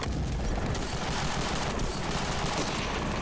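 Ravenfield video game twin-turreted tank firing its turret guns, a dense, continuous roar of rapid gunfire filling the whole stretch at steady loudness, close and unbroken.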